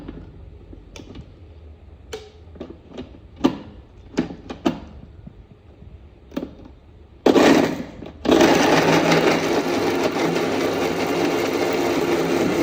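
Scattered knocks and clicks, then a loud mixer grinder starts grinding with a little water, briefly cuts out, and roars steadily on.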